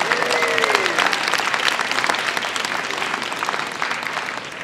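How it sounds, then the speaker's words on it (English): Live audience applauding for the host museum at a science comedy demo event at the North Carolina Museum of Natural Sciences; dense, sustained clapping fills the room, with a brief whistle or squeal near the start. "Let's give a big round of applause to our host museum."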